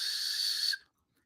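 A thin, high airy whistle holds steadily for under a second and then cuts off into silence, with no talking around it.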